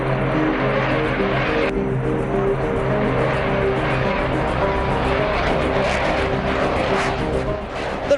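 A Rafale fighter jet with twin jet engines flies past, producing a continuous loud, broad roar with a steady droning hum underneath that holds throughout without breaks.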